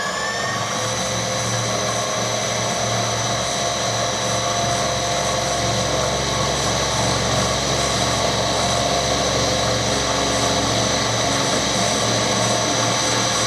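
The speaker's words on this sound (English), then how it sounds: "I'll give it a go on there with a big cutter to see what it actually does" A milling machine with a large carbide cutter machines soft copper: a loud, continuous high-pitched whine and drone holds steady throughout, close by with no voices.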